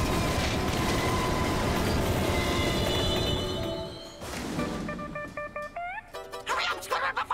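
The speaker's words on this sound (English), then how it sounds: "It's the last train of the night!" A cartoon train's heavy mechanical rumble fades as it slows to a halt at a station, followed by a series of short electronic chime tones.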